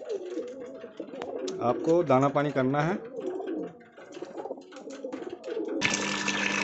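Pigeons coo at close range in a short rolling burst, then quieter calls follow, while someone speaks over them.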